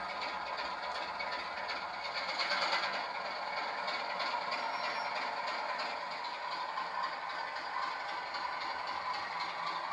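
A model locomotive runs at speed setting 9 with a continuous mechanical whir and light clattering rattle, steady and fairly faint throughout.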